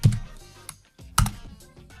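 Close keystrokes on a computer keyboard entering a search term, a few scattered clicks with one sharper louder tap near the middle and quiet gaps between, no voices.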